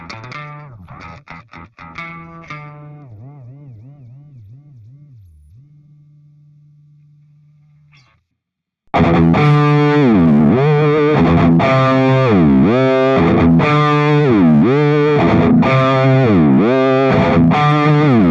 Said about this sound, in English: for our expression pedal, just like before, it just continuously moves the pitch of the sound.